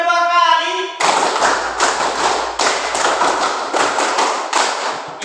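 Classroom of students clapping hands together in a counted rhythmic pattern, several loud, sharp group claps spaced regularly, close and fairly even, after a brief voice at the start.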